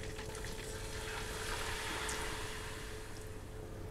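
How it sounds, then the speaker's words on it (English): Guinness pours into a pan of melted butter taken off the heat, giving a steady, quiet fizzing gush for several seconds with no talk over it. "I'm going to pour the Guinness straight in there."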